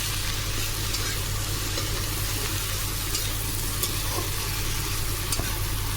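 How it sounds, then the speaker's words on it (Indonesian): Continuous close sizzling of vegetables stir-frying for capcay in a hot pan, steady and even throughout with a faint low hum underneath. "Ini ya capcaynya, aku tumis semua."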